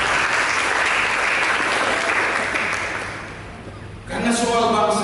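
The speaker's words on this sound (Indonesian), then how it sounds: "Mari kita berikan tepuk tangan yang meriah." A church congregation applauds warmly during a sermon, a loud sustained wash of clapping that thins and fades toward the end before a voice cuts in over the last of it.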